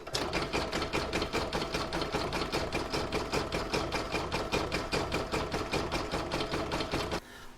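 An embroidery machine sews a satin stitch edge in blue thread on a snowman coaster, its needle pounding in a fast, even mechanical rhythm for about seven seconds before stopping abruptly.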